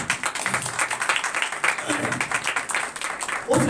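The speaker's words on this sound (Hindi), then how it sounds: "जोरदार ताली बजाइए।" Audience applause at a Hindi-language church service: a sustained wash of clapping, moderately loud and steady throughout, with some voices mixed in.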